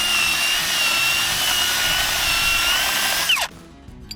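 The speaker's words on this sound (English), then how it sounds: "So then I'll come in here with this stainless wire brush." A stainless wire brush on a power drill scrubs a Case IH SDX planter pivot, a loud steady whirring buzz that holds constant and then spins down sharply and stops.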